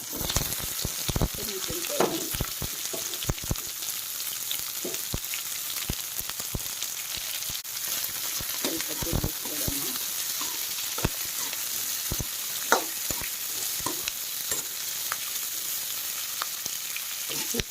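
Onion and curry leaves fry in hot oil with mustard seeds and cumin for a radish and radish-greens palya, a steady bright sizzle with scattered sharp crackles and pops throughout, close by and uninterrupted.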